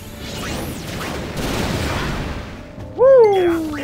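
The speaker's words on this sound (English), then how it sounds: "Yes, keep using that fireworks" A fireworks attack in Final Fantasy X-2 HD Remaster sets off a dense crackling barrage of pops and bursts, followed by a loud rising and falling whistling swoop, with a person talking over the battle.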